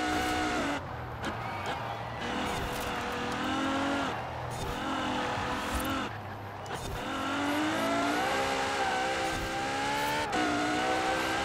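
Race cars in Forza Horizon 4 roar continuously through a long race, with engine tones rising and falling as they rev and shift, alongside occasional tire noise, loud and steady throughout.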